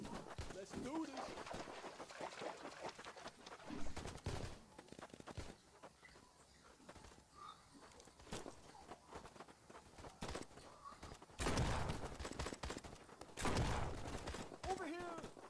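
Gunfire in the Killer Bean shooter game: scattered bursts of shots and footsteps, with louder volleys near the end, under continuous speech.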